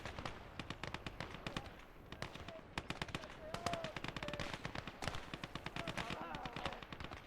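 Battlefield gunfire in Gates of Hell: Ostfront with Finnish forces, sniper shots mixed into a dense, steady crackle of rifle and automatic fire, fairly distant and quiet, continuing without pause.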